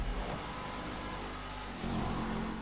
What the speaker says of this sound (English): the catch-up is really killing my car. I can hear it struggling through the gears